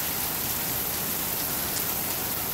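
Steady rain falls in a dense, even hiss with no break. It is a constant wash of drops with no voices over it, heard where a car's rear window is stuck open and will not close.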